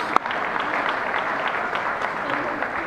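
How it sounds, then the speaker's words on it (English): Audience applause fills a 2019 Nebraska Coaches Association awards banquet hall, a steady, moderately loud wash of clapping that holds evenly across the whole stretch after a brief sharp clap at the start. "Let's give them both a big round of applause."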